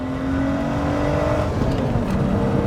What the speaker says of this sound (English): What a great little engine.